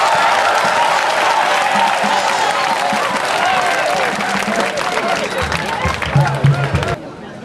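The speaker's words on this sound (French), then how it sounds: "Nous souhaiterions que tous les élèves acclament très fort le préfet." Students at a school gathering clap and cheer loudly for the prefect, sustained dense applause with crowd voices mixed in, tapering off abruptly near the end.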